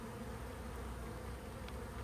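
Honey bees from an opened hive buzz in a dense, steady drone during a colony inspection, close and continuous throughout without pause.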